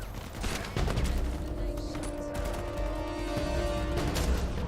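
Sniper sidekick gunfire in Uncharted 4: A Thief's End, a few sharp cracking shots spaced across a busy combat scene with a steady tonal hum and background clatter underneath.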